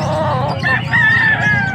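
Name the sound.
young roosters (stags) at a market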